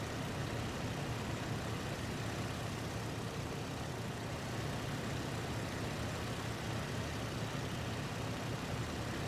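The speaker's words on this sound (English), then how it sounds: "I hear an engine." A vehicle engine runs close by in a video game set around a trench line, a steady, dense rumble that holds at an even loudness throughout, with no voices over it.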